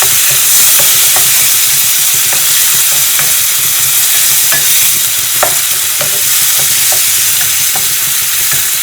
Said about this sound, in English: 2 chopped tomatoes. And fry it.